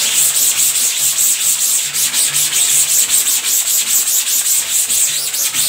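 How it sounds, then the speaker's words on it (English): Scrubbing of a screen printing screen being cleaned after bleaching, a steady close rasping rub with rhythmic back-and-forth strokes continuing throughout, loud and alone. "Then I'll just scrub it."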